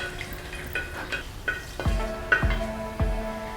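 Whole cardamom pods and cloves sizzle softly in hot oil for a beef curry as they are stirred. A spoon strikes the pan several times, and each metallic clank rings out clearly over the quiet frying.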